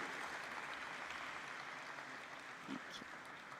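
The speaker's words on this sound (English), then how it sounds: "can we have a huge round of applause for our dignitaries" An audience at an NSE electricity futures launch event applauds its dignitaries, a faint, distant, even wash of clapping lasting a few seconds.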